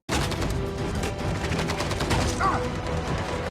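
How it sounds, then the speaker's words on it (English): Gunfire in a Fast and Furious movie scene, with rapid, dense bursts of shots over a loud, busy action soundtrack running the whole time. "Oh, that's when Vince gets shot."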